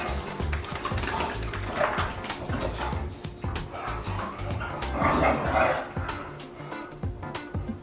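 Pet dogs are bathed in a bathtub with water running and splashing throughout. Yips, barks and whimpers rise over the steady wash, and a voice speaks briefly.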